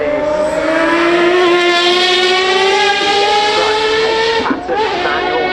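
Race car with a Cosworth V12 engine and manual gearbox at a motorsport hillclimb festival, a loud, close, high-pitched engine wail holding a steady tone before a sharp dip and rise as it shifts or lifts off.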